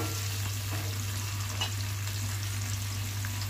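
Chopped onions frying in a pan for chicken gravy curry give a loud, steady sizzle and crackle with a constant low hum underneath, close and unbroken, with no talking.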